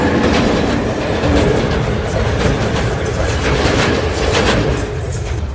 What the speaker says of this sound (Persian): الان این قطاری که داره میره کجا میره؟ قطار خرمشهر به اهواز است.